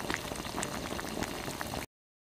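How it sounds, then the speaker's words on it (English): Syrup pours from a jug, a close, bubbling liquid gurgle with small splashy pops that runs for almost two seconds and then cuts off to silence. "Pour our jug in there."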